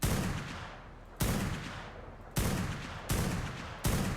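Repeated gunfire from a firearm in the video game Ark, five loud sharp reports at irregular intervals, each with a long decaying boom and no talk.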